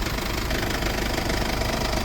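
A 2022 Mercedes-Benz Sprinter van's engine idles steadily, a dense even rumble with light knocking texture, close and continuous with no talk over it.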